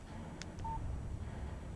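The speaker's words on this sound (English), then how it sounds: "Text message from Barry" A short electronic phone beep sounds as a text message alert in the video game Alan Wake, brief and faint over a steady background hum, with no speech.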